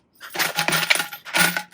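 Coins clink and rattle as they drop into a Coca-Cola bottle penny bank, two close bursts of metallic jingling separated by a brief pause.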